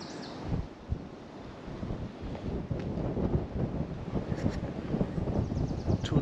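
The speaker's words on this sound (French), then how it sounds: "J'espère que vous m'entendez bien avec le vent." Gusty wind buffets the microphone on a hiking trail lined with daffodils, a low rushing roar that rises and falls in uneven bursts with no talking.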